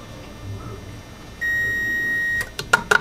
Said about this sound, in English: Oven's ready.